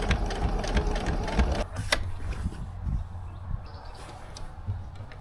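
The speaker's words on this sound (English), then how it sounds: "I am just gonna sew it shut." Sewing machine stitching the lining of a handmade reusable fabric shopping bag shut, a steady mechanical whir with fast repeated needle ticks, close and moderately loud, pausing briefly partway before continuing, with no talking.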